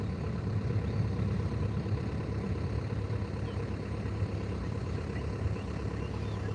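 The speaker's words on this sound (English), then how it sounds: "the engine here behind us is the sand grooming machine, picking up all of the garbage" A beach sand grooming machine runs nearby, its engine giving a steady low rumbling drone that holds at an even loudness with no breaks.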